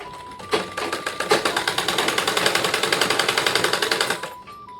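A sewing machine stitches nighties in a small tailoring shop, running in a fast, even rhythmic burst of needle strokes for about four seconds, starting and stopping sharply, close and loud with no talk.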